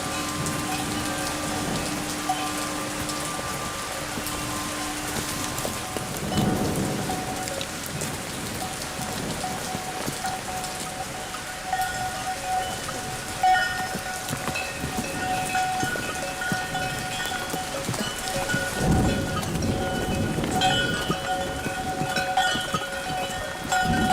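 Steady rain patters and hisses throughout a drama scene, with a couple of low, rolling thunder rumbles swelling up partway through and no voices.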